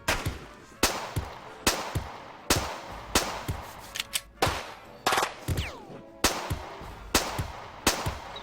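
Gunfire in turn-based combat in Jagged Alliance 2 v1.13: about a dozen sharp gunshots spaced roughly a second apart, each with a short ringing tail, loud and close, with a few quick double shots mixed in.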